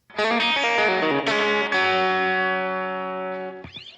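Electric guitar plays a short lick of quick picked notes from a song, then holds a final note that rings out with effects and slowly fades.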